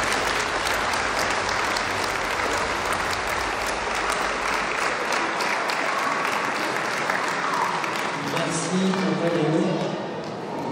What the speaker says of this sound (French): Merci de les applaudir pour leur investissement